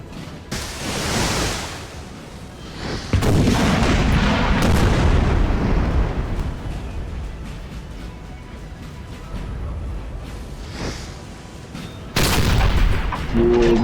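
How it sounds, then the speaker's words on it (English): Booming cannon fire from 6-pounder artillery in the Napoleon: Total War video game, several heavy blasts in irregular succession with rumbling battle noise between them. "So 4 6-pounder cannons."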